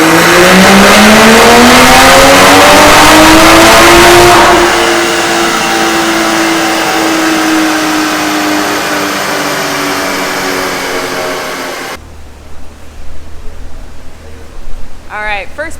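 A tuned 2020 Toyota Supra with a bigger turbo wheel makes a power pull on a hot, humid day: a loud engine note climbs sharply, then holds a strained roar before cutting off, after which a voice speaks over quieter background.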